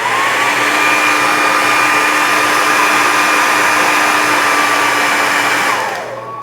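A Revlon hair dryer blows with a loud, steady whoosh and faint motor whine that holds evenly for about six seconds, then winds down as it shuts off.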